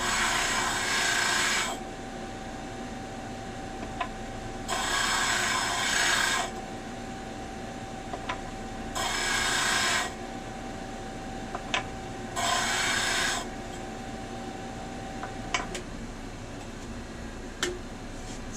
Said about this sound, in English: they've been sanded